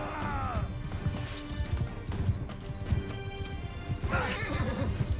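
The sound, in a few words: horse neighing and hooves in video game Mount & Blade II: Bannerlord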